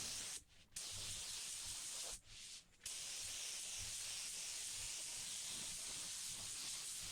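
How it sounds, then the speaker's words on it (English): Spray guns painting a car, fed by an Ingersoll Rand air compressor, give out a steady broadband hiss. It cuts out in two short gaps early on, then carries on unbroken at close range with no voices. "I'm feeding this with an Ingersoll Rand compressor. No problem feeding these spray guns."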